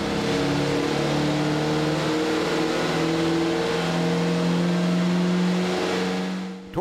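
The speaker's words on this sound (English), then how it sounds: "Torture testing an engine on a dynamometer, a machine that replicates the work it would do in a car, is something all manufacturers do to prove a new engine." A new car engine runs under torture testing on a dynamometer, a steady loud drone with stable harmonic tones throughout, holding at load for several seconds before easing off at the very end.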